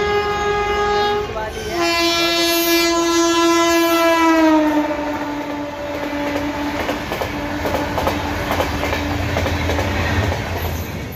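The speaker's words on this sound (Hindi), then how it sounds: "फाइनली भाई ट्रेन आ चुकी है" A train pulls into a station in India, blasting a long, loud, steady horn close by, with rumbling and clattering wagons continuing after it.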